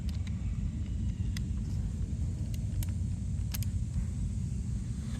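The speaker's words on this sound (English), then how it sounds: "having to listen to all the cars that pass by" Steady low road rumble from passing cars, with traffic noise filling the background throughout and occasional faint clicks above it.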